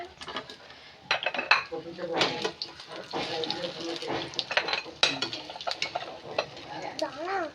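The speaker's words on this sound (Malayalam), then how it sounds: "നമുക്കത് കോരി ഒരു പാത്രത്തിലോട്ട് മാറ്റാം" Fried banana fritters (pazhampori) are scooped out of hot coconut oil into a dish, with repeated metal clinks and scrapes of a ladle against pans and plates, close by and uneven in rhythm.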